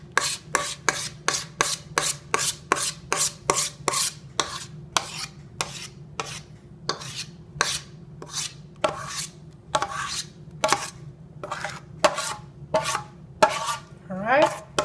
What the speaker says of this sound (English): You also want to take a spoon again. You just want to scoop that in.